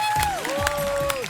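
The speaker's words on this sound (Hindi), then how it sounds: "जोरदार तालियां हो जाए सबके लिए" A studio audience applauds at the close of a comedy talk show, with a steady wash of clapping and crowd noise under music and a brief sung tone.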